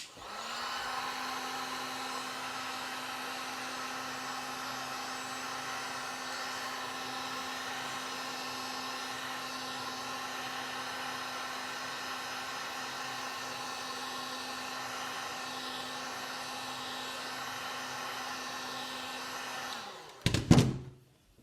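A heat gun blows hot air onto EVA foam being shaped into cosplay chest armor, making a steady, loud whooshing hum that runs unbroken for about twenty seconds, then cuts off with a brief clatter.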